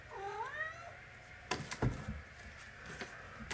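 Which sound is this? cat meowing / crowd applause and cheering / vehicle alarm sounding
cat meowing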